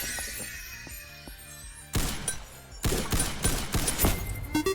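Gunfire in a robot fighting video game: rapid bursts of shots with sharp crashing impacts, loud and clustered, after a quieter stretch of game sounds.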